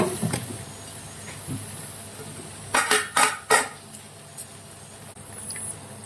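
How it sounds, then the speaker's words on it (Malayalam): A few sharp metallic clinks and scrapes of a spoon in a pan as tuna fish pieces go into a pickle masala and are stirred, with quiet stretches between the clustered knocks. "ഇതിലേക്ക് ഫിഷ് ചേർക്കുകയാണ്."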